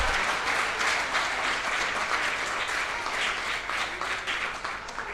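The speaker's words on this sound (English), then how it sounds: "Can we clap for Team MUA?" Conference attendees at an insurance brokers' gathering in Mbarara, Uganda, applaud Team MUA, a sustained, fairly loud wash of clapping that fades slightly near the close.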